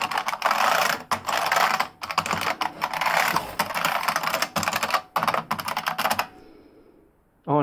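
A Unicomp Mini M buckling spring keyboard being typed on rapidly and loudly up close, a dense continuous clatter of clicky keystrokes with brief gaps, ending abruptly.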